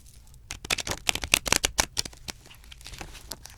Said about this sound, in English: It shuffles beautifully.